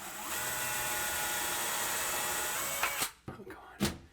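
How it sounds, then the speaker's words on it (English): A power drill pre-drilling holes in a butcher block countertop whines steadily at high speed for a few seconds, then stops, followed by a few short bursts. "Do a pre-drill"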